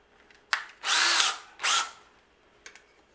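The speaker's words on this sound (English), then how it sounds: "I use a brad point bit, and one reason for that is that it will cut the outside circumference" A power drill fitted with a brad point bit bores into carving wood in two loud, sustained bursts, the first nearly a second long and the second shorter, with brief clicks of handling before and after.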